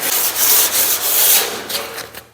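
Close, rhythmic scraping of sandpaper rubbed back and forth over a car fender, several quick strokes before it trails off.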